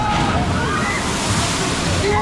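Water splashing and sloshing on the Chiapas log flume ride at Phantasialand, a loud continuous rushing spray close by, with voices mixed in over it.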